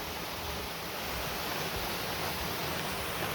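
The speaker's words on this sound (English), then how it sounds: "I've done videos here already at this waterfall" Waterfall on the Uvas Canyon loop trail, a steady, close rushing roar of falling water with no break, filling the whole clip without voices.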